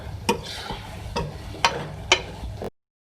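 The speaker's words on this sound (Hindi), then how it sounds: "मिक्स करेंगे और उसको भी 2 से 3 मिनट कुक करेंगे" Beef keema being stirred in a pan after adding garam masala, with a steady low sizzle and four sharp spoon scrapes at intervals, close and moderately loud, no talking.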